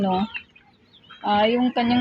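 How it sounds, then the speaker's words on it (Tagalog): A chicken clucks up close, a short call followed by a pause and then two more throaty clucks in quick succession. "So, ayan ang manok"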